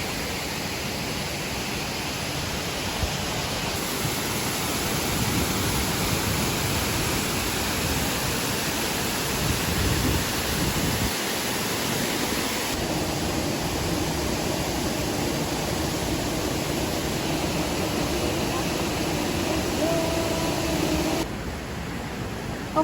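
Pikaw Falls waterfall pours as a steady, broad roar of rushing water, unbroken and fairly loud throughout, with no voices.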